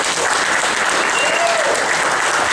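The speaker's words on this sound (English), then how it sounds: "Big round of applause for Tommy." Loud, dense applause from a crowd at a hall of fame induction ceremony, continuous and full from start to finish, with faint cheering voices mixed in.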